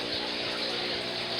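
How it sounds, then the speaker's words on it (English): Water trickles and splashes steadily in a discus fish breeding tank system with pumped overflow, a constant close, even wash with no other sounds. "The loudest thing in here is the water trickling."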